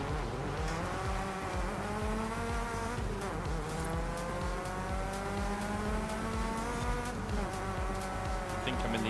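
Mazda MX-5 engine in Forza Horizon 5, a steady high-revving buzzing drone with rising and falling pitch through gear changes, loud and continuous throughout.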